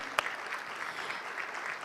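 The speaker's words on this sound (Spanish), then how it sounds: "Vamos a dar un aplauso a Cecilia también" Audience applause from a seated crowd at a tech week event in Córdoba, a steady dense wash of clapping at moderate distance with one sharp clap standing out near the start.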